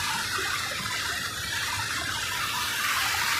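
Floodwater rushing along a forest path in the Kotagiri hill forest of the Nilgiris, Western Ghats, a steady loud broadband gush that fills the whole stretch without a break and without voices.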